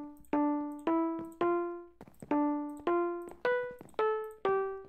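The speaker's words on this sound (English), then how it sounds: "Now this is the classic lullaby song." A Minecraft Skyblock harp plays Brahms' Lullaby as single plucked notes, evenly spaced, each ringing out and decaying. The melody is clear and close, with nothing else heard behind it.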